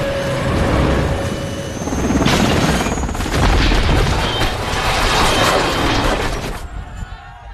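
A loud RPG blast striking a Black Hawk helicopter over a city: dense, sustained booming roar with surges of crashing debris, rumbling on for several seconds before cutting off.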